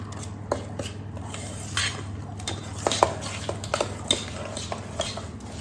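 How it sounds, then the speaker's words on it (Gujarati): Spoon stirring and mixing semolina dhokla batter with sugar and curd in a bowl, giving repeated light scraping clinks against the bowl in an irregular rhythm, close and fairly quiet over a low steady hum. "બધું સારી રીતે મિક્સ કરી લઈશું।"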